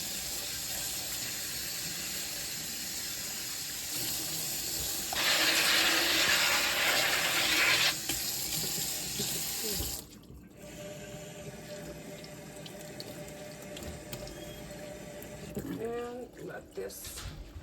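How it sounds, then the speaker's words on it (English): A kitchen tap runs over freshly harvested garden produce being rinsed, a steady hiss of water that swells louder for a few seconds before cutting off, followed by quieter dripping and handling sounds. "I'm just gonna rinse it really well."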